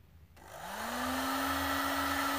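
A heat gun switches on and spins up, its fan whine rising quickly to a steady airy blowing hum while heating plastic tubing on a ribbon shoelace, close and continuous with no voices.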